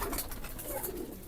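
Pigeons cooing nearby, soft repeated low coos over a noisy outdoor background.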